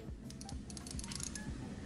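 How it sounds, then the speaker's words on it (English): An Islander 38mm automatic dive watch's dual time bezel is turned by hand, giving a run of faint, quick, close-up clicks in an otherwise quiet setting. "we'll see how the action sounds on this bezel"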